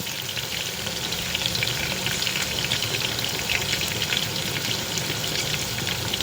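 Curry leaves sautéing in a pan for Tamil-style beetroot poriyal, giving a steady, dense sizzle and crackle that holds level throughout, close and fairly loud, with no voices.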